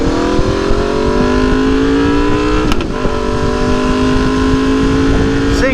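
A nearby liter-class motorcycle engine holds a loud, steady roar, its pitch climbing gradually as it revs, with a brief sharp click partway through.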